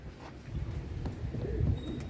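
A perched pigeon gives soft, low cooing, faint and close, against a quiet background.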